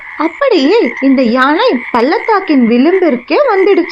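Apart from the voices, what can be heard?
frog croaking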